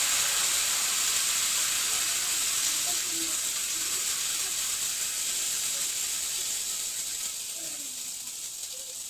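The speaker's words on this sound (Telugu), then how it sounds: "కలుపుకున్న పిండిని దోశ పెనం పెట్టి" Dosa batter made with Balamrutham sizzles on a hot dosa griddle pan, a steady close hiss with faint crackles that slowly fades toward the end.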